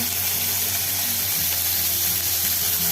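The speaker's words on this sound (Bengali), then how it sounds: "তেলটা হয়ে গেছে। এবার এর মধ্যে আমি একটু পেঁয়াজ বাটা দিয়ে দেবো।" Onion paste hisses and sizzles steadily in hot oil in a pan while a Bengali hilsa fish curry is being cooked, a continuous close frying sound with a faint low hum beneath.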